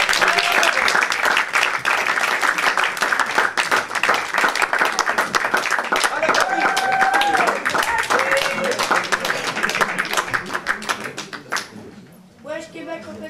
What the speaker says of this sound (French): Je vous demande d'applaudir tout de suite sur scène David